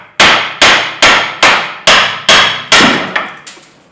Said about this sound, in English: Now would be a good time just to give your bottom arms a tap to release the ball joints.